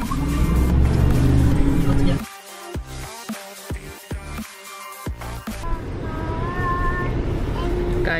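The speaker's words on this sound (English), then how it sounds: "this is such a loud car" Loud engine and road rumble inside a car cruising through Dubai, heavy at first, then dropping away with choppy gaps before a steady drive returns with a whining tone near the end.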